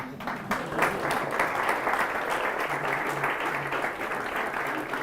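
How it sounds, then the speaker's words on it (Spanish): An audience at a tech meetup talk on web components claps in a steady, fairly distant round of applause that holds evenly throughout, with faint low voices underneath. "Esto sí que ya merece un aplauso, ¿no?"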